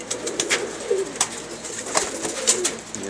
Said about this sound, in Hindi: कबूतर हैं जी, मादी है।